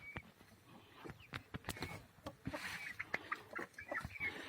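Chickens clucking and a rooster calling nearby in a village house garden, with sharp scattered clicks and farmyard bustle.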